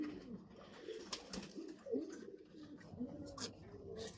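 A black-necked racing pigeon gives soft, repeated coos amid faint background rustle and light chirps, fairly close but quiet, with no clear speech over it.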